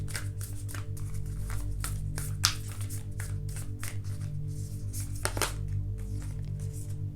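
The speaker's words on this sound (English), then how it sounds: "Let's just shuffle all the cards now so that you don't have to shuffle all the time." Tarot cards being shuffled by hand, a quick series of soft close riffling and tapping sounds repeating over a low steady background hum.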